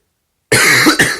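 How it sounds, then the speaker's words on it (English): Two loud, harsh coughs close to the mic, the first longer and rasping, the second short, breaking a silence. "I kind of have a little cough here, as you could tell"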